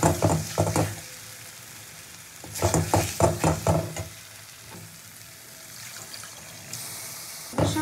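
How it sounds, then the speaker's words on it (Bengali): Milk added to a sizzling pan of prawn curry masala for malai prawn curry, with bursts of frying hiss and stirring scrapes around a quieter, steady simmer, close to the microphone. "এবার আমি দুধটা এর মধ্যে অ্যাড করবো"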